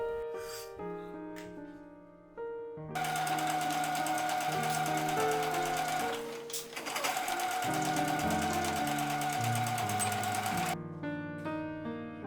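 A sewing machine stitches a denim tote bag seam in one long, steady, loud run of rapid mechanical whirring, with shorter starts and stops on either side and no talking.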